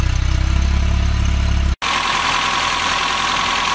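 Engine of a repaired RT132 idling steadily and loudly up close, with a rough low throb that cuts out briefly and then carries on as a smoother, brighter running note.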